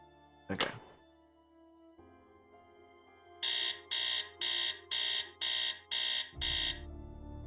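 Seven sharp electronic beeps from an alarm clock in a Nancy Drew mystery game ring out in an even, evenly spaced series, loud and close, after a soft thunk and a quiet hum.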